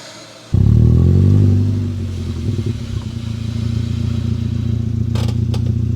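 A Volkswagen GTI's engine intake starts up suddenly and loudly while driving, with a deep, steady droning hum that eases slightly after the first surge and then holds a constant, throaty tone.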